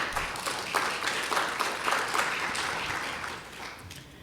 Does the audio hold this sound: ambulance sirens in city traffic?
no